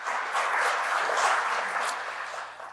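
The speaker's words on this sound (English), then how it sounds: "So could you please join me in a round of applause for Connolly?" Guests at a community foundation heritage club reception give a short round of applause, an even patter of clapping that holds for a couple of seconds and then fades.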